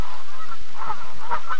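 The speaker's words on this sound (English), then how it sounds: "In the forefront are North America's largest geese." Giant Canada geese on the Canadian prairies honk in loud, close calls, several overlapping nasal honks scattered through a short stretch with no talking.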